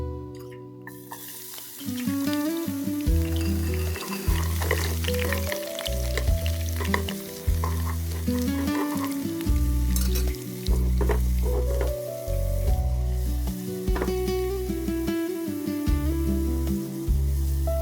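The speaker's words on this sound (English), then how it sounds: "In another small pan, I melted some ghee. Then I added 5 cloves of diced garlic." Five cloves of diced garlic fry in melted ghee in a small pan for Egyptian molokheya, a continuous sizzle heard beneath loud rhythmic music.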